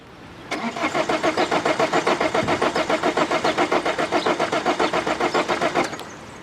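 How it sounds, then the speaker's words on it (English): A diesel car engine, run on sunflower oil, cranking over and over in a fast rhythmic churn for several seconds on a morning start, then stopping without catching. "Next morning, as expected, car didn't start up."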